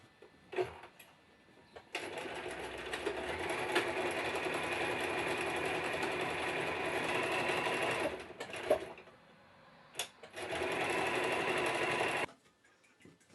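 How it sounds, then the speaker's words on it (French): A sewing machine runs zigzag stitches to overcast the edges of fabric pieces for a girl's bag, humming steadily in long continuous bursts with brief pauses between passes, close and alone. "Puis surfilez toutes les pièces aux pointes zigzag."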